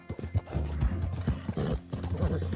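Horse hooves clip-clop in quick, uneven beats in Red Dead Redemption 2, close and fairly loud, with a voice talking over part of it.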